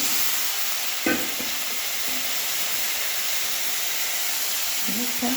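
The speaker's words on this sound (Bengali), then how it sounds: "মাছ ভাজা তেলের ভিতরে কচুর মুখেগুলো দিয়ে দেবো" Taro pieces drop into hot oil left from frying fish, giving a loud, steady hissing sizzle throughout with a brief clatter near the start and a short voice at the end.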